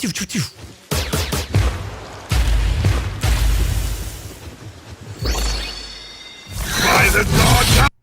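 Several punchy synthetic explosion effects burst in succession, separated by short gaps, with whooshing swells between them; loud and close.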